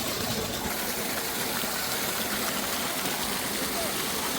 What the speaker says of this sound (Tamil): சிறிய ஆறுகள் வந்து கொண்டிருக்கும் இடம் தான் இது